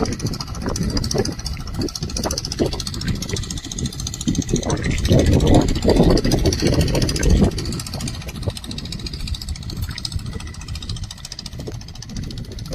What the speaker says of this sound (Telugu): మోటార్ పెట్టి కొడతా ఉన్నారు వాటర్ని